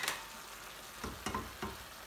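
Roughly chopped tomato goes into onions already frying in a pan for a Bangladeshi lamb shatkora curry. A steady close sizzle carries a few soft stirring knocks, with no one talking.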